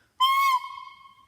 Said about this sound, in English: if I don't use that soft, slow, smooth air and I blow, it sounds like this.